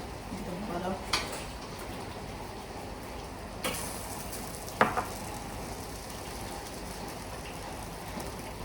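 Potato hash fries in a buttered pan with a steady, close crackling sizzle, broken by a few sharp clinks and scrapes of a utensil against the pan.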